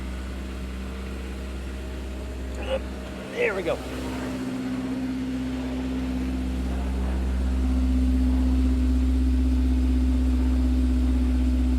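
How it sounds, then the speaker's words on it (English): A 2006 Honda S2000 idles after startup, heard from outside the car as a steady low exhaust drone that swells slightly louder later on, with a few brief clunks and a short spoken remark early. "Let's listen to the exhaust from outside the car, the startup idle."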